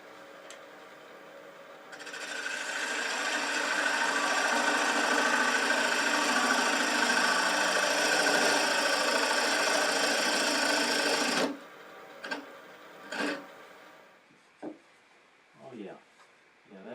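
A wood lathe spinning up and running steadily for several seconds while a geometric shape is hollowed with a bowl gouge, then cutting off abruptly, followed by a few short bursts of talk.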